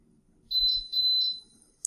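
A modified IoT pressure cooker gives two sets of high, clear electronic beeps, each a short double chirp, loud and close in a quiet room, followed by a brief click at the end.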